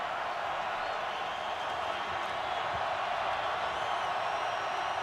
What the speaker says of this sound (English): Crowd getting loud.